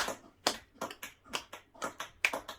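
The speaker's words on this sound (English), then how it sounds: "Why are they doing a sarcastic slow clap?" Slow sarcastic clapping from a small group, about a dozen separate claps at a loose, uneven beat, each one sharp and distinct, with quiet gaps between them and no speech.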